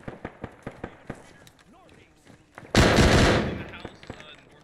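Gunfire in the military video game Arma 3: a rapid run of sharp shots opens the clip, then a loud sustained burst of fire, with a few more shots trailing after, while players talk over the action.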